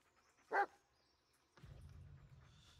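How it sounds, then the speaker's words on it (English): Bullet, the dog in the video game Blair Witch, gives one short, sharp bark, then a low rumbling noise follows in a quiet scene. "Listen to his barking and watch his body language."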